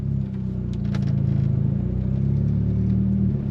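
A 412bhp VW Lupo GTI with a 1.8T engine drones steadily under acceleration, a close, continuous mid-low rumble with a strong harmonic engine tone that holds throughout without pause.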